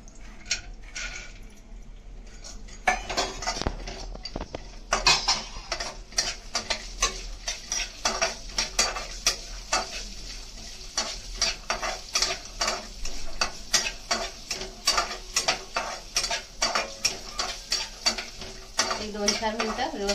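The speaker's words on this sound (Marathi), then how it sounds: "त्याच्यामध्ये हे ड्रायफ्रुट्स भाजून घेऊया चांगलं." Dry fruits are roasted in ghee in a kadhai while a spoon stirs them for rice kheer. The spoon scrapes and clinks against the pan in quick repeated strokes over a soft frying sizzle.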